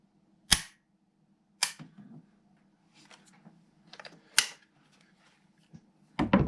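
Trigger of a Rossi .410 shotgun squeezed until it breaks, giving a few sharp, close mechanical clicks separated by quiet pauses, with a faint steady hum underneath.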